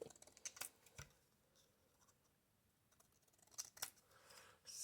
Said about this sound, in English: So I just want to cut these words up similar to what I did on that tag